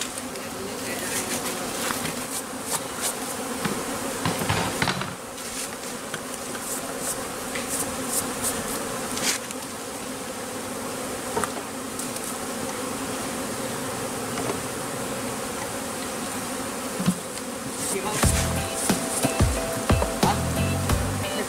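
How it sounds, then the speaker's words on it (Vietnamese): Honey bees buzz loudly and steadily around a hive during a honey harvest, a dense swarm drone that fills the whole stretch with a few sharper passes close by. "trước khi mà lấy cầu ra phải dùng khói cho ong nó sợ nó xuống"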